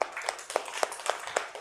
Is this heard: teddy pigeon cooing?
no